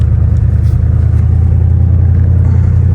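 A 1955 Chevy rumbles close by as it drives, a loud, deep, steady engine drone with little variation throughout.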